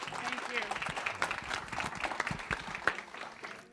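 Faint clapping from a small crowd at a sister cities association's annual meeting, scattered and uneven for a few seconds, with low voices murmuring beneath it.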